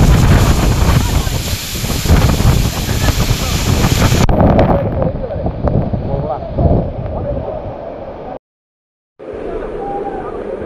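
Sahasradhara waterfall at Sitakunda roars as a dense, broadband rush. Heavy wind buffets the microphone at first, then the noise quietens and drops out briefly before returning.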